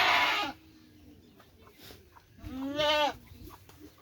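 A goat being led to a breeding centre bleats twice, first a short loud cry and then a longer wavering bleat, against faint outdoor background noise.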